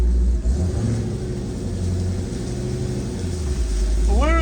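A pickup truck with a Dodge Demon engine accelerates hard, its deep loud engine rumble steady and close, ending in a rising rev as the tires spin, with voices faintly underneath.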